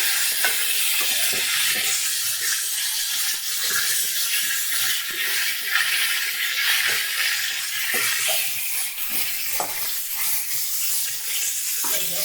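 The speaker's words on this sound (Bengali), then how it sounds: "একটু লাল লাল করে আমি ভাজা করে নেব ফুলকপি আর আলু।" Cauliflower and potato fry with onion in a pan, making a continuous bright sizzle broken by soft stirring scrapes. It stays close and steady throughout, with no talking.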